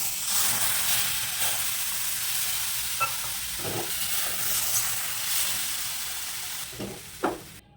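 Milk goes into semolina frying in ghee with a steady, bright sizzle and hiss, close by, broken by occasional soft stirring scrapes and a sharper burst near the end.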